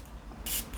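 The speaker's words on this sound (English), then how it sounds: "Let's spray it." A perfume atomizer sprays a tuberose fragrance from a white bottle, giving one strong, close hiss of mist lasting about a sixth of a second, with a fainter second puff just after.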